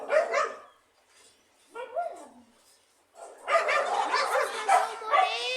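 Several dogs bark and yip in sharp bursts at close range at a family home, with a short pause before a dense, overlapping flurry of excited barking near the end.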